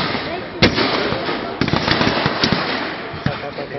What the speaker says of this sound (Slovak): Z diaľky počujeme známe staccato sovietskeho gulometu Maxim.